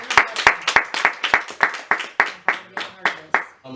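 Clapping during a podcast recording, a small group clapping in a regular, distinct rhythm of about a dozen sharp beats that are close and loud with no talk over them.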